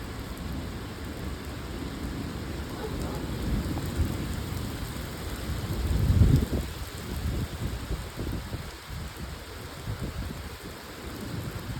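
Heavy rain pours during a severe thunderstorm with a low rolling thunder rumble swelling midway, the downpour steady and close throughout.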